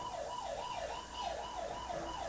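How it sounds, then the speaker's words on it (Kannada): An Eyelink WiFi 4G CCTV camera sounds its siren outdoors, a wailing electronic tone sweeping up and down in regular cycles, moderately quiet and slightly distant, with no talk. "ನೋಡಿ ನಾನು ಹೊರಗಡೆ ಇಟ್ಟಿದ್ದೀನಿ, ಅಲ್ಲಿ ನಿಮಗೆ ಸೈರನ್ ಕೇಳಿಸ್ತಾ ಇರ್ಬೋದು."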